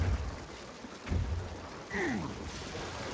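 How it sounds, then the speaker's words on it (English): Rain and rumbling thunder from a lightning bolt in a video game raid, a steady downpour hiss with a low boom near the middle and a brief swooping electrical zap toward the end, no talk. "Just gonna run into the lightning bolt."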